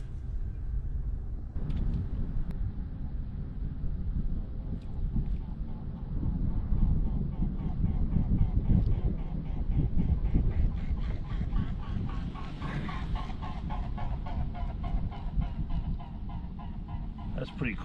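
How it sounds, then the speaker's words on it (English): A flock of swans flies past outdoors near water, sounding a run of honking calls over steady wind rumble, growing louder and more frequent as the birds pass. "Hopefully you saw those swans fly by. I heard them coming for a mile."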